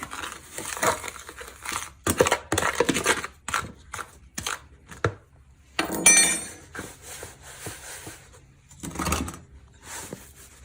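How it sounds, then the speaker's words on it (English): A batch of gold ore fire assay flux is stirred in bursts of dry, gritty scraping and crinkling, with short pauses between the irregular strokes, close and fairly loud. "And I'll stir up my batch"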